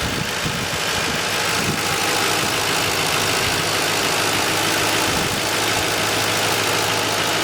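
A 2006 Ford Crown Victoria in good running condition idles steadily, a loud, close, even engine rumble that holds constant throughout with no talking.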